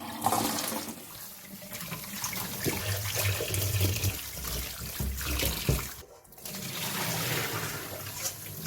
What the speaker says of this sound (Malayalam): ഇനി ഈ സോയ നന്നായിട്ടൊന്ന് കഴുകിയെടുക്കാം.